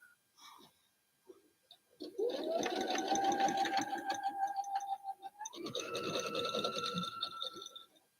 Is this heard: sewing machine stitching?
yes